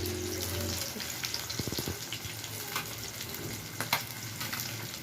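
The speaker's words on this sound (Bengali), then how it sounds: "এখন মাছটা ভাজা হচ্ছে" Fish fries in a pan with a soft, steady sizzle, broken by a few faint clinks and knocks of cookware; fairly quiet and close, with no talk.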